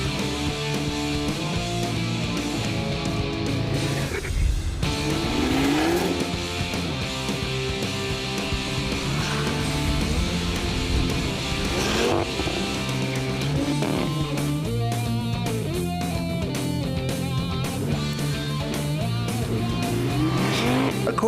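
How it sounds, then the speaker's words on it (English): Audi RS3 compact four-wheel-drive car drifting on snow and ice, a continuous loud engine roar with rising and falling revs and tire squeal, heard under music throughout. "nothing stands in the way of controlled drifting"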